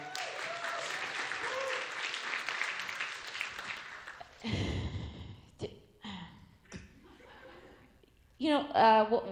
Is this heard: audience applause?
yes